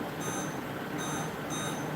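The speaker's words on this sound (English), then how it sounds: "I'm going to set my timer for about 15 minutes" A kitchen timer gives short, repeated high electronic beeps while it is set, with about three brief bursts over a steady background hum.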